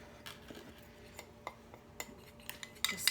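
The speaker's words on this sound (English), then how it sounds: "just mix it all together." A metal fork scrapes and clinks against the inner pot of an Instant Pot while mixing poutine ingredients, giving soft irregular taps and a few sharper chinks, fairly quiet with no voice.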